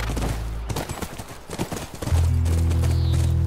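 A horse in The Last of Us video game: rapid, uneven hoofbeats clopping close by for two seconds, then a loud, sustained whinny that holds to the end.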